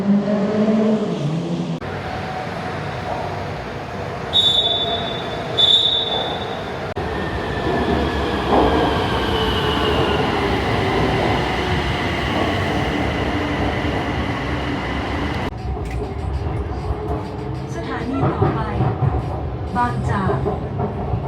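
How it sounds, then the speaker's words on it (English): A BTS Skytrain in Bangkok rolls along steadily, with a continuous rumble of wheels on rail, a brief high chime or beep early on, and a recorded station announcement near the end. "You walk on the Sky Bridge and walk over to the BTS terminal and catch the train back"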